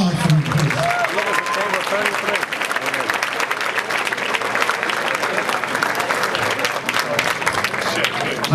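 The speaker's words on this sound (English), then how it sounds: "A big round of applause for him, please." A crowd at a Jersey City Fiesta Del Pueblo gala gives a big round of applause for an honoree, a thick, sustained clapping with voices mixed underneath and some cheering near the start.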